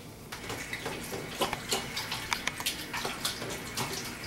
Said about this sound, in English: I rinse everything off on my hands.